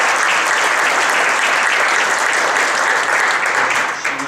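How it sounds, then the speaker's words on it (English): Audience applause at a city boards and commissions appreciation event, a dense, steady wash of clapping from a crowd that holds loud throughout and tapers slightly at the end. "Can we give a round of applause?"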